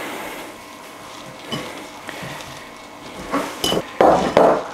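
Crumbled bread mixed into ground beef in a bowl for Neapolitan meatballs produces soft squelching and scraping, then several sharp clinks and knocks of a utensil against the bowl toward the end, close by with no voices.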